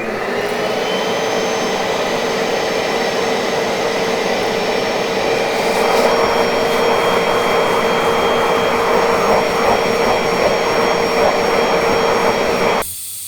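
A Bissell Green Machine carpet cleaner runs loud and steady, its motor whine and suction roar continuous as it works solvent into a ketchup stain on carpet, cutting off abruptly at the end.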